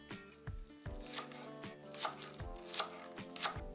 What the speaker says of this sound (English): Chop 1 green onion.